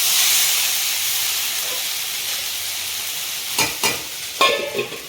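Potatoes fry in a pan at home with a steady bright sizzle and hiss, then a few scraping stirs break through near the end; no one speaks.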